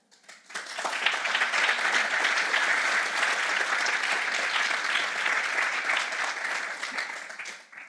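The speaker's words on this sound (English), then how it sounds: "we hope she heard the applause through the live stream" An audience applauds at an awards ceremony for translation prizes, with steady, dense clapping that swells quickly, holds evenly for several seconds, then fades out.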